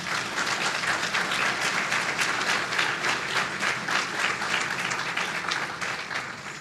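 An audience at the Coast Electric annual meeting and member appreciation night gives a round of applause, a steady, moderately loud clapping that runs throughout and tapers slightly at the end.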